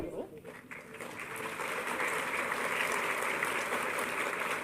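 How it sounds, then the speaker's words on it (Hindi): An audience at an official appointment-letter ceremony for newly appointed instructors breaks into sustained applause, which swells after a moment and holds steady, with a voice audible near the start. "आप तालियों के माध्यम से शुभकामनाएं हमारे इन नव नियुक्त अनुदेशकों तक पहुंचाएं"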